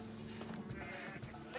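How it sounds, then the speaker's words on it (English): Sheep bleat in a real-time strategy match of Age of Empires 4, a few short nasal calls over steady game ambience, fairly faint and spread across the moment. "I got like a handful of sheep here."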